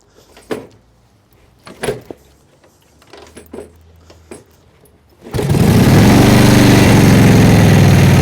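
A Harley-Davidson Flathead motorcycle engine is kick-started: several separate clunks and mechanical thuds, then it catches and runs loud and steady at close range, with no talk.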